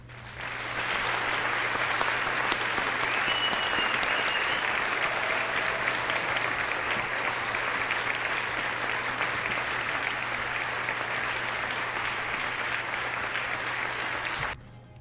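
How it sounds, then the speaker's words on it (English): A crowd gives a sustained, dense round of applause, steady and loud for about fourteen seconds before cutting off abruptly. "I want everyone at home to give .emu, Nickelodeon, and Tribute Games a round of applause"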